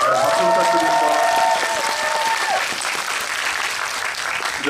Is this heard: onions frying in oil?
no